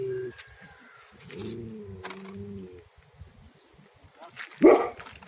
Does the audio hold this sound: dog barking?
yes